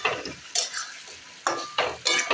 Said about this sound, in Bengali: দেখো ডিম কষাটা করছি, একটু দেখো।